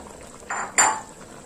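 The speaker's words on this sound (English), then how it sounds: "We're going to add our crayfish now." Crayfish tipped into a pot of boiling banga soup with goat meat, giving a soft pouring rustle followed by a brighter clatter of utensil against the pot, both brief and close.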